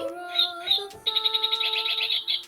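A small bird chirps repeatedly, bright high tweets in quick bursts then a rapid trilling run, fairly close and clear over a quiet background.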